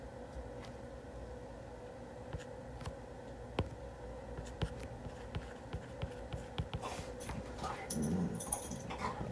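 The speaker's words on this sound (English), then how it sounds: "sorry, my dog's going crazy" A dog whimpers and fusses indoors during a physics lesson on electrical power, its restless sounds moderately close, with a few sharp yelps and scrapes over a steady hum.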